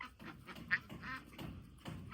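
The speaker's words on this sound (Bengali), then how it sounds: "এই যে হাঁসগুলো একটু পরপরই পানিতে নেমে যেতেছে।" Ducks on a poultry farm give a series of short, fairly faint quacks in an uneven rhythm, about six calls spread across the moment.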